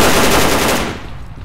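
Rapid automatic gunfire from teammates in S.T.A.L.K.E.R. Call of Pripyat rattles loudly in a dense burst, then trails off into fading echoes.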